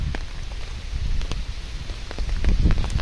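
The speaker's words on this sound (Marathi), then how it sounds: "आणि पाऊस आला आहे बघा" Rain patters steadily on the ground and vegetation out in the countryside under cloudy afternoon skies, a dense close hiss with scattered drops and faint wind rumble, no voices.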